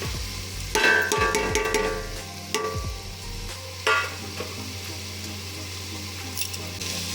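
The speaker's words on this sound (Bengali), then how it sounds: "ও সবজিটা ভাজার পর আমি ফ্রাই করে রাখা ডালটা দিয়ে দিলাম এখানে।" Vegetables and lentils frying in a pan, with soft sizzling under a low hum and a few sharp scraping stirs of a spoon against the pan.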